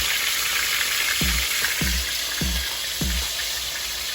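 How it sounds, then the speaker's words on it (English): Oxtail frying in a pan gives a steady, loud sizzle, with four evenly spaced soft thuds as pieces are moved or shaken. "so when I fry it, it will reduce the fat, cut down on the fat that is on the oxtail"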